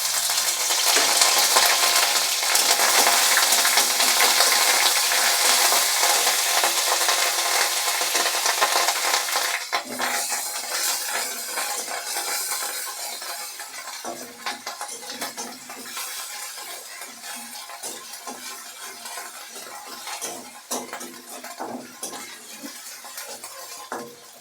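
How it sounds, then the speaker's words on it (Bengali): Onion paste frying in white oil in a wok, a loud close sizzle that fades after the first few seconds as a spoon scrapes and stirs in repeated clinks and scrapes. "দেখুন এখানে কিন্তু পেঁয়াজটা আমার ভাজা ভাজা হয়ে গেছে।"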